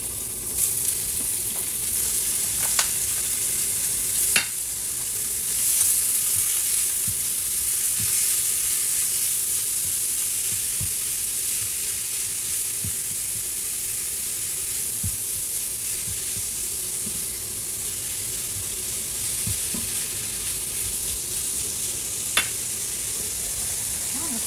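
Meat frying in hot cooking oil in a pan gives a steady, loud sizzle and hiss that runs without a break, with occasional sharp pops and the clatter of stirring.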